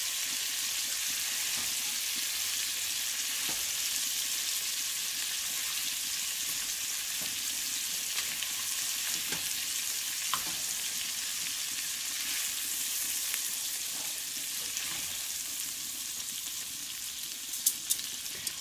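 Large shrimp sizzling in a frying pan, a steady, moderately loud crackling fry that runs unbroken, with occasional small pops and light utensil ticks near the end.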